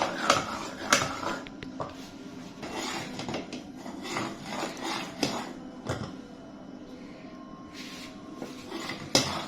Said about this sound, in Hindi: चम्मच बराबर हिलाते रहना है।